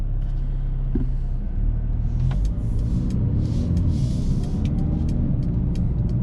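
A 2019 Mercedes A35 AMG in comfort mode gives a steady, low engine rumble from inside the car while it drives, staying fairly subdued, with a faint note and road noise throughout.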